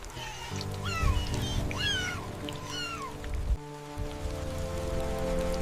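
Pouring rain from a storm hisses steadily, while a young leopard cub's high wavering calls rise and fall several times above it.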